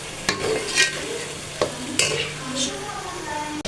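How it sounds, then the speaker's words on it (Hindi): Chana dal goes into a pan of frying masala for a dhaba-style dal fry, with a steady close sizzle broken by a few sharp spoon scrapes and clinks against the pan, and no voices. "वैसे ये थोड़ा सा मसाला फ्राई करके उसके बाद हम ये डाल देंगे अपने चने की दाल।"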